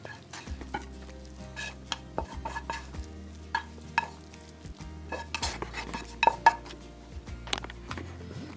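Fried liver stirred and scraped out of a sizzling pan onto a plate, with steady metal-on-pan scraping and clinks over a soft frying hiss, close and fairly loud, no talking.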